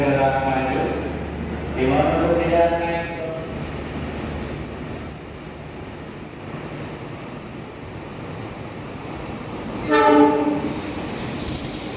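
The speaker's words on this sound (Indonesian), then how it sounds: "Di jalur 3 akan segera melintas langsung kereta api Malabar ya." The Malabar train rolls straight through a station on track 3, a steady rumble of passing cars underneath with loud horn blasts near the start and again toward the end, and a voice speaks faintly at times.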